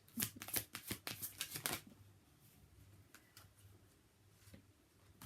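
Tarot cards shuffled close by in a quick run of crisp riffling flicks lasting about two seconds, then fainter taps and a soft slide as one card is drawn, quiet overall.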